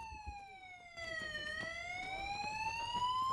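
Alarm sounding on a naval patrol base before a night patrol, a steady electronic wailing tone whose pitch dips then slowly rises again, heard at moderate volume and distance with faint background clatter.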